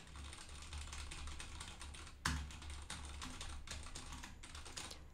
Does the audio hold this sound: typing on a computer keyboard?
yes